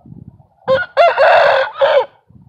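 A rooster crows loudly and close by, one full cock-a-doodle-doo with a sharp rising start, a long sustained middle and a falling final note. Softer clucking from the flock sits underneath, before and after the crow.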